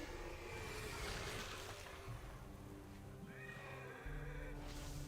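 A video game horse mount whinnies loudly and clearly, with soft hoofbeats and movement sounds beneath it and no speech.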